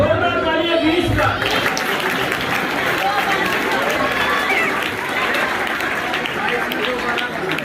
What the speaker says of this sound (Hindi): जोरदार ताली है 20 का।